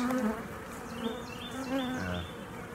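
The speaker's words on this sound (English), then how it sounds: "The bees have been so busy here." A dense, steady buzzing of many honey bees at a hive surrounds the listener, close and continuous with wavering pitch.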